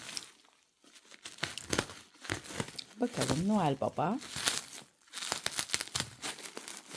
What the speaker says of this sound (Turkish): şey açıyorum kargo poşet açıyorum